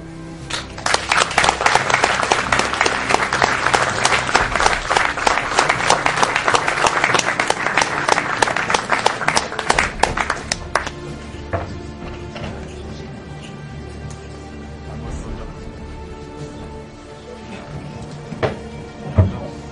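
An audience applauds a performer at a stage show with loud, dense clapping for about ten seconds. It then thins to scattered claps and faint room noise, with a couple of sharper knocks near the end.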